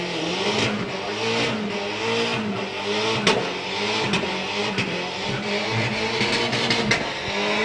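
Drag race cars at the STP Summer Nationals roar steadily with heavy engine noise and revving. The loud, continuous racket has sharp cracks and bangs scattered through it, and no talking is heard.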